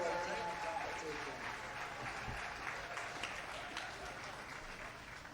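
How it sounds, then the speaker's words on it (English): A hall crowd applauding U20 boys' bowling athletes at the start of round 4 of tournament play, with steady broadband clapping that holds throughout and fades slightly toward the end. "please give these athletes a great round of applause as they begin their round 4 tournament competition"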